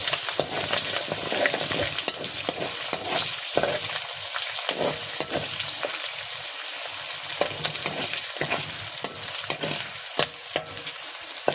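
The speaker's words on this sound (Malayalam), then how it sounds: "രണ്ട് കറിവേപ്പില കൂടി ഇട്ട് കൊടുക്കാം കറിവേപ്പിലയായി ഇത് നമുക്ക് ജസ്റ്റ് ഒന്ന് ഇളക്കി കൊടുക്കാം" Curry leaves sizzle and crackle steadily in hot oil in a pan, with scraping stirring strokes throughout and bursts of spattering, close and fairly loud with no voices.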